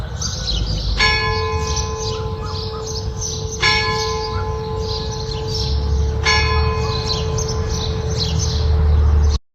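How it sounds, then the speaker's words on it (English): Three slow, resonant church bell strikes ring out at even intervals, each tone lingering and decaying, over a steady backdrop of chirping birds with no one speaking. "try out this birds and bells, because I think the bell will be really interesting"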